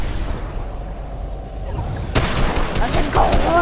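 Gunfire in the video game Fortnite on a Tilted Zone Wars map, a rapid rattle of shots breaking out after a quieter stretch and continuing in bursts, with a voice talking over it.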